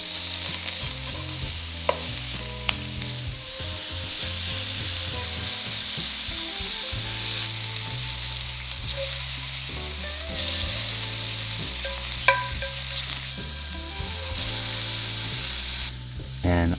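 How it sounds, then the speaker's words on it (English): Beef sears in batches in clarified butter in a hot, large, shallow carbon steel pan, a loud continuous sizzle and spatter with occasional sharp pops, steady from start to finish. "The beef goes into a hot carbon steel pan, large and shallow."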